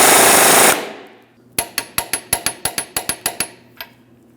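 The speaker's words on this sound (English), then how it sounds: "Let's snug our ball joint nut and torque it to 90 foot-pounds." A ball joint nut on a 2005-2010 Chrysler 300 front lower control arm is run down, a burst of air-tool noise followed by about ten sharp, evenly spaced metallic clicks of a torque wrench, close and loud.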